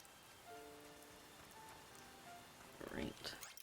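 Steady, even hiss of rain falling in the farming game Harvestella runs throughout, with soft tonal music notes above it and a voice speaking briefly near the end.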